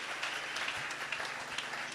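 A church congregation applauds and acclaims Jesus at a worship service, producing steady broadband clapping and cheering that holds at an even level for the whole stretch.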